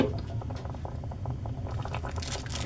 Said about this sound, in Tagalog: Ayan po natin siyang kumulo hanggang sa medyo po siya matuyo.